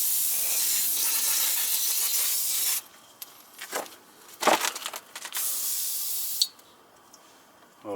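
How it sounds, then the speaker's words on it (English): Brake cleaner sprays onto a brake rotor of a 2013 Lexus IS250 in a loud continuous hiss for about three seconds, followed by short rubbing and handling sounds and a second sustained spray burst, close up. "I'm going to spray it with some brake cleaner."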